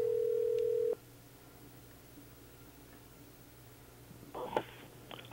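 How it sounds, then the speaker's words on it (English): A single steady telephone tone plays for about a second while a call rings through to voicemail, then cuts to near silence broken by a few faint clicks. "So we're going to give Ben Miller, Bob's boss, a call."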